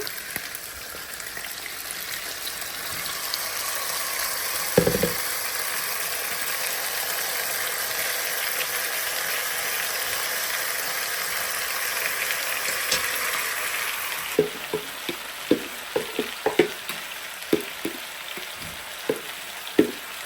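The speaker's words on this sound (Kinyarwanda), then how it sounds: "Ngiye gushyiramo ibitunguru." Onions frying in oil in a pan alongside turning chicken pieces, a steady close sizzle throughout with one clunk early on and later a string of sharp knocks and scrapes from stirring, with no one speaking.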